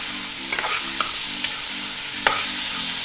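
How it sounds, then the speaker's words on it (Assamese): Taro root curry with spices, garlic, ginger and oil stirred in a hot pan, a steady sizzle broken by repeated soft scraping strokes and light clinks. "এতিয়া মই ভালদৰে গোটেইখিনি মিক্স কৰি ল'ম"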